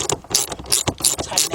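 Socket ratchet clicking in quick bursts while tightening a part on a 2006 Chevy Cobalt 2.2, close and loud, several short rapid ratchet runs back and forth.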